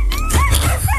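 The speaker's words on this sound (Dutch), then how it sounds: "Het zijn per ongeluk honden die je hoort." Dogs bark and whine over a radio broadcast, several overlapping yelps and howls heard through a speaker, loud and close.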